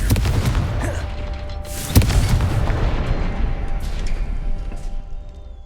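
A Confringo blasting spell goes off in Hogwarts Legacy as a loud booming explosion with a sharp burst near the two-second mark, then rumbling crackles and smaller blasts that fade into a low echoing tail.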